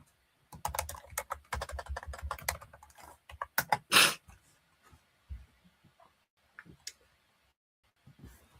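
Someone types on a computer keyboard nearby in quick bursts of crisp key clicks, with one louder clack and then scattered single taps after a pause.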